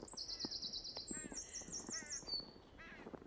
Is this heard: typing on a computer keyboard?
no